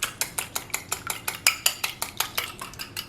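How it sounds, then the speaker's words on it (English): A whisk clatters rapidly against a bowl while beating warm milk with a beaten egg, producing quick, evenly spaced metallic taps and scrapes, close and clear with no talking. "now I'm going to whisk that around"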